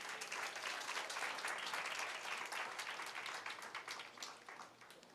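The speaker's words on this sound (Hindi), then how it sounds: "उस परमेश्वर के लिए ताली बजाएंगे।" A congregation applauds at a Sunday church service, dense and sustained clapping that fills the room and eases off slightly toward the end.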